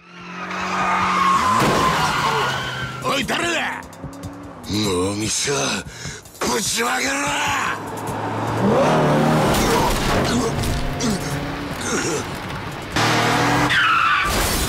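A car screeches through a hard skid in a Yakuza 0 cutscene, tires squealing over a revving engine, with crashes and impacts breaking in amid loud dramatic action and some talk.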